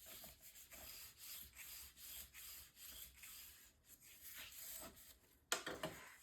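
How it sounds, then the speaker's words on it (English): Repeated rubbing strokes of a burnishing tool pressing decorative paper down onto a card for a Stamperia Fortune mini album page, a steady close scraping rhythm ending in a sharper louder scrape. "And then I'm going to burnish this down here."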